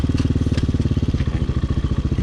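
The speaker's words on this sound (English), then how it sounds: "going too slow, it just starts lugging like that." A High West Hawk 250cc street-legal dirt bike engine lugs in high gear at too low a speed, giving a loud, close, heavy chugging pulse with an even, labored rhythm.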